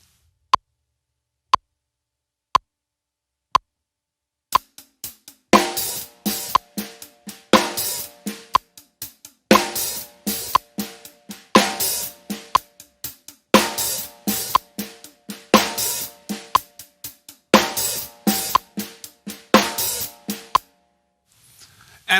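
A drum kit plays a slow groove at 60 bpm. Four sharp count-in clicks lead into a hi-hat pattern with snare accents and soft ghost notes, close and crisp, with no talking.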